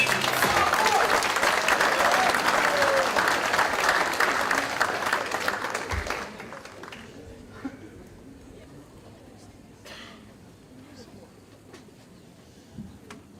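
Applause for the fall coaches fills a high school athletic awards night. The crowd claps loudly and steadily for about six seconds, then it drops to a quiet room with scattered small noises.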